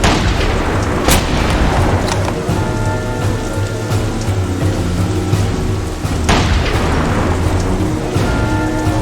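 Gunfire in the video game The Saboteur, with a couple of sharp, loud bangs standing out over a dense, continuous roar of battle noise.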